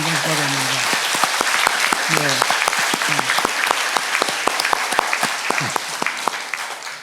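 Applause from an audience at a Korean church book launch for a pastor, a steady wash of clapping running throughout with sharper individual claps, while someone speaks over it at times.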